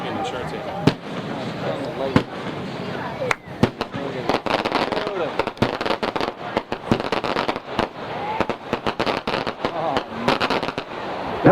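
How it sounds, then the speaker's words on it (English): A fireworks display of 6-inch five-break shells and big bombs, with repeated sharp booms and crackling bursts at varied distances, while voices talk and react over the explosions. "5-break crochet in 6-inch starts this one off. Michael featuring 2 big bombs."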